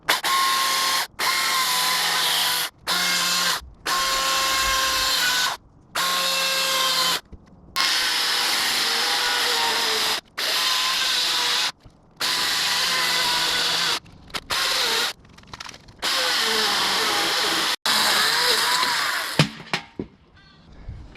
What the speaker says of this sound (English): Got the electric chainsaw, I just need to cut the pocket out for the brace.